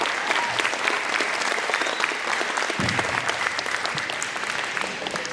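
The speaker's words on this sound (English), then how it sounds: "Big round of applause for her." Steady, dense applause from an audience at a karate belt test spanning green belt through black belt, a continuous wash of many hands clapping throughout, fairly close and even in loudness.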